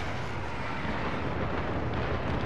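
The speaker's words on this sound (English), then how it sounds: "explosions all around me" In the video game Dirty Bomb, a dense, continuous rumbling roar of explosions fills the moment, loud and sustained, with no clear gaps between blasts and no talk over it.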